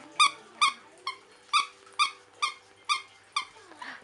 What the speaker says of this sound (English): It does squeak.